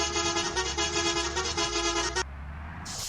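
A loud, sustained multi-tone Komban bus horn in a bus simulator game blares for about two seconds, then cuts off abruptly, followed by a brief higher tone near the end.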